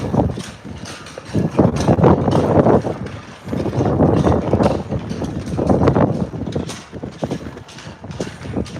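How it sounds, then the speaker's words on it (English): Strong gusts buffet the microphone outdoors at Espanola Valley High School, in rumbling, uneven surges, with brief clicks and knocks scattered throughout. "It's freaking windy here."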